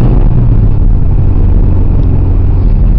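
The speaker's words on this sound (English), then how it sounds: "Just give it a little rev. Here she goes." A car engine on its first cold start of the day, running a little choppy, is given a light rev, filling the space with a loud, close, heavy rumble that stays fairly steady throughout.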